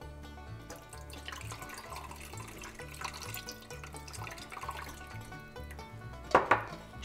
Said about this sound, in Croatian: Voda.